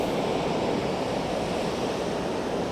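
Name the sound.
ocean waves breaking on the shore at Apollo Bay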